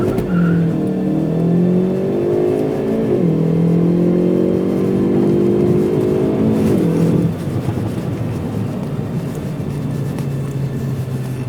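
Hyundai i30 N launch-control start at full throttle: a loud, close engine roars upward through rapid gear shifts with stepped rising pitch for about seven seconds, then settles to a steady drone.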